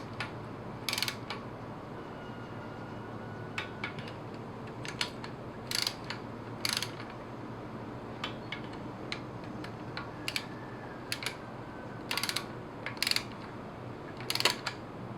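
Torque wrench clicking and ratcheting while tightening bolts on a BMW M54B25 engine during rebuild reassembly, a string of sharp metallic clicks at irregular intervals, some in quick pairs, over quiet workshop background.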